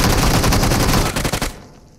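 Rapid automatic gunfire in a battle royale shooter game, a dense loud burst of closely spaced shots that rattles on for about a second and a half before cutting off into a fading echo.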